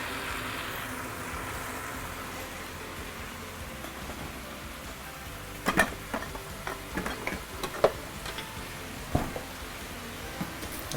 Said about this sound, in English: I like to listen to all these sizzling sounds.